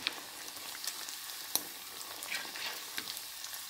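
Banana flower cutlets shallow frying in a pan on a very low flame, a soft, even, continuous sizzle with faint scattered pops, close and quiet, with no voices.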